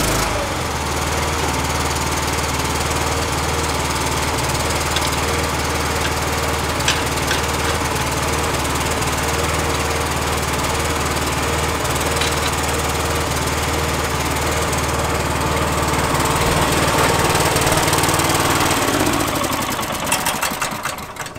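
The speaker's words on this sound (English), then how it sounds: "Switch off my hydraulic power pack, turn off the hydraulic pressure" A steady, loud hydraulic power pack engine on a core sampling drill rig drones and knocks continuously for a long stretch, with a low rumbling hum and occasional clanks, close at hand.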